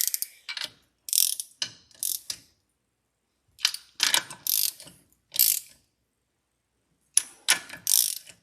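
A ratchet tightens the bolts on a Mercruiser Alpha 1 Gen 2 sterndrive, sounding as short, close bursts of rapid clicking in uneven clusters separated by pauses.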